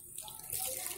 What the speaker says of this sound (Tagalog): magdidilig na po siya ng halaman